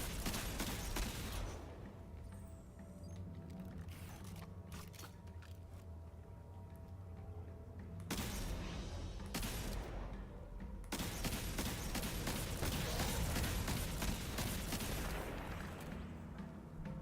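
Rapid gunfire in a shooter video game set in the European Dead Zone, dense bursts of shots and mechanical clatter that pause briefly and then resume louder, with no talking.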